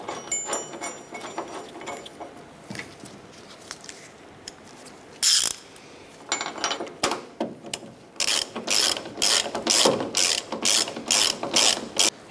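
A hand ratchet tightens the tailgate pivot plate bolt on a Ram 1500 pickup. Scattered clicks come first, then a fast, crisp run of repeated ratcheting strokes, close up with no voices.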